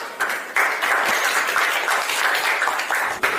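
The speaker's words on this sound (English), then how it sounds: "Give applause" Applause from a classroom audience during a teaching practice session, a short burst of steady group clapping that starts abruptly and holds fairly even before tailing off.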